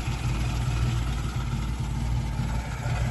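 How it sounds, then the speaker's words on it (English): A 1946 Morris 8 Series E four-cylinder engine idles nearby with a steady, low, even burble and no voices. "four-cylinder engine now, just bubbling away nicely"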